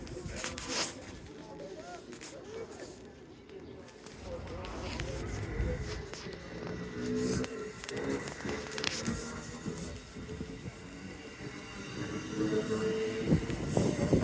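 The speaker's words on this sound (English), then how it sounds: "There goes Amtrak 8519 taking off from Kingston Station." An Amtrak Northeast Regional train pulls out of Kingston station in Rhode Island, wheels squealing and rumbling as it gathers speed, building louder toward the end, with a person speaking over it.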